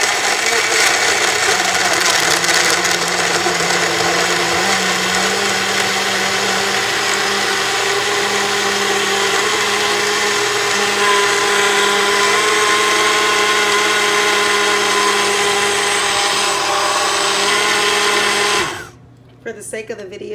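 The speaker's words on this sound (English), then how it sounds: "I love this blender because all I have to do is hold it" A handheld blender motor making a smoothie whirs steadily and loudly for about eighteen seconds, then cuts off abruptly, leaving a brief quiet tail.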